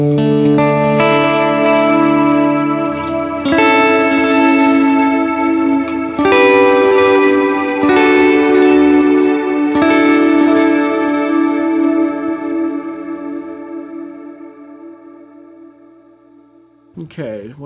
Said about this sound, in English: I use the destroyer for a more like just subtle sound